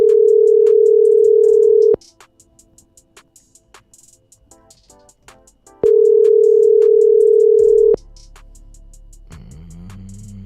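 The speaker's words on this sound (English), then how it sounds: "Better pick up this time, Vince. Pick up." A phone call rings out with two long, loud, steady ringing tones of about two seconds each, separated by a pause filled with faint clicks, then the line clicks and shifts.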